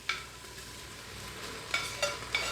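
Quiet sizzling of beef in a hot Instant Pot, with a few soft scraping stirs and clinks near the end.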